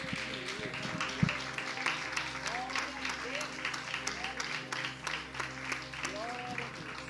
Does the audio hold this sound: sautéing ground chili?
no